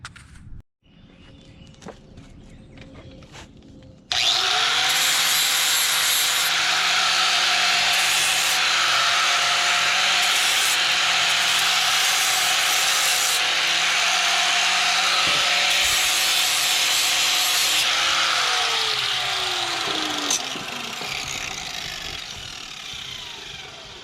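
Angle grinder wearing down kickstand stopper notches on a Honda motorcycle, a loud steady metallic grinding whine held for about sixteen seconds after a quiet start, then easing off and fading.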